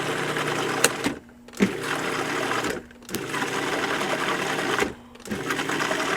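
A loud food processor motor whirs steadily with a mechanical rattle while making mayonnaise with grapeseed oil, cutting out briefly three times before starting up again.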